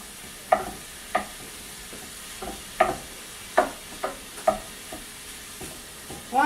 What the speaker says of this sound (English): I'm just going to add my sausage meat. And let that start browning and crumble it up to get our gravy going.